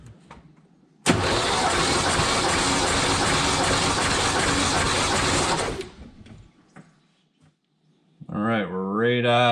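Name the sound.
Foxbody Mustang engine cranking over during compression test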